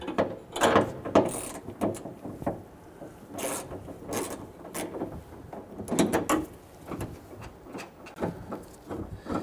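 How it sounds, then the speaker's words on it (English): Socket wrench on an extension working a liftgate nut on a Jeep Patriot, giving near, close-miked ratcheting and scraping metal clicks in irregular bursts with no talking. "by using your extension and socket, it makes it easier to capture that nut"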